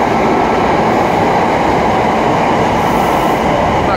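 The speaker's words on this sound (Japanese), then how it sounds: "回送列車でした" An out-of-service subway train rushes through Maioka Station on the Yokohama Municipal Subway Blue Line with a loud, continuous roar and rumble of wheels on rails, close by and steady throughout.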